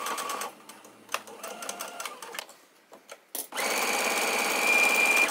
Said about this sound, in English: we're gonna start sewing a straight stitch here